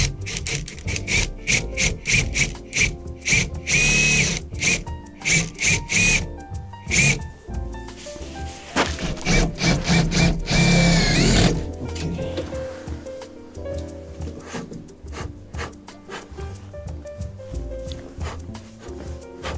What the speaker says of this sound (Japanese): インバーターが壁にかかりましたので、ビスを止めていきたいと思います。